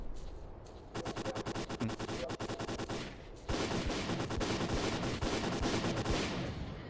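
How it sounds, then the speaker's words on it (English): Rapid bursts of automatic gunfire crackle loudly and continuously in the video game Stalker: Call of Pripyat, with a brief lull before a denser volley of shots rattles on. "I can hear gunfire."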